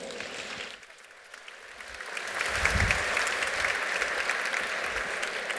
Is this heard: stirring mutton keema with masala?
no